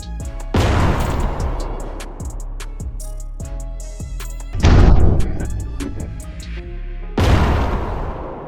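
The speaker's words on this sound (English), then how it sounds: "Enemy artillery opens fire. The tanks separate, assume their positions and return fire." Heavy booms of enemy artillery and tank return fire in a combat zone against Russian forces, three big detonations with rumbling decay and a scatter of sharper distant shots between them, no voices.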